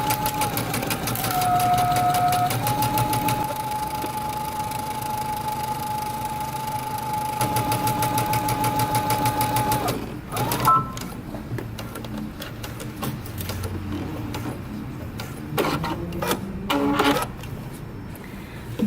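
A sewing machine stitches a jeans pocket and pocket lining with a 5/8-inch seam allowance, giving a steady mechanical whirring hum with a faint whine, then slowing into shorter, uneven bursts and knocks.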